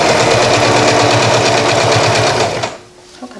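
A sewing machine stitches an upcycled garment in a fast, even mechanical chatter that is loud and close, then stops abruptly near the end.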